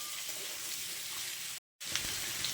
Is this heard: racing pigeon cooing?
no